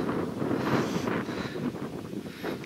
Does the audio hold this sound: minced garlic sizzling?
no